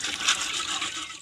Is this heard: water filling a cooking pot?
yes